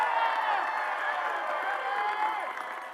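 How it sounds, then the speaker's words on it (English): Arts and Humanities graduates at a university commencement cheer loudly, a dense roar of voices with whoops and scattered clapping that holds steady before easing slightly at the end. "they are a loud crowd"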